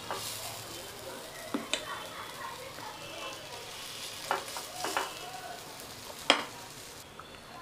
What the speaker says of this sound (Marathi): तेल जे आहे ते चांगलं आता गरम झालेलं आहे. हे पीठ आता मी ह्याच्यामध्ये घालून घेते.